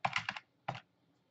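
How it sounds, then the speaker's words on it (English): Keystrokes on a computer keyboard in a quiet room: a quick cluster of about four clicks, a pause, then one more isolated keystroke, close and fairly soft. "In the search box of the toolbar, type servo."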